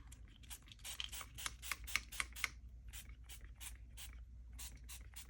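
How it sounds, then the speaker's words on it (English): Repeated quick pumps of a spray bottle spraying ink, a dozen or more short hissing bursts in an uneven rhythm, close and moderately loud. "So I'm just giving it a hard spray."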